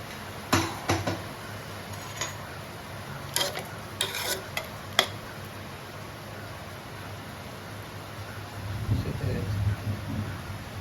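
A spatula mashes boiled chana dal in a pan, giving a few soft scrapes and clicks early on over a low steady hum, then a muffled rumble near the end.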